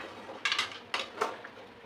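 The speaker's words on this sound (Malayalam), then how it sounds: "ചിക്കൻ മസാല ഇട്ട് കൊടുത്തു ഇനി നന്നായിട്ട് ഇളക്കി മിക്സ് ചെയ്യാം" A spoon stirring chicken curry with masala in a metal pot, heard as three quick clinking, scraping strikes against the pot's side, spaced about half a second apart, close and fairly soft, with no voices.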